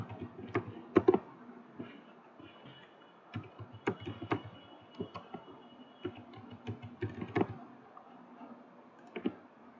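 A computer keyboard is typed on in short bursts of close clicks with uneven pauses between keystrokes, as a login is entered during a Citrix ADC configuration.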